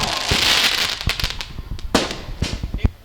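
Firecrackers going off at an outdoor political gathering: a dense burst of crackling fire at first, then a rapid string of sharp loud bangs and pops at uneven intervals.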